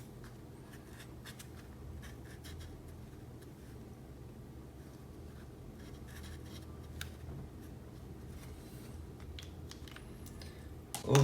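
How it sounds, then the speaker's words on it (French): Colored pencil in Hot Pink moving over paper in soft, steady scratchy strokes, faint and continuous, with a brief louder knock at the very end. "j'utilise ensuite la couleur Hot Pink pour colorier les parties qu'on a là"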